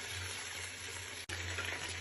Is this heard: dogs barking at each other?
no